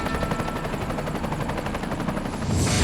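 A helicopter on a sightseeing flight, its rotor making a loud, continuous fast chopping throb that fills the whole stretch without letup.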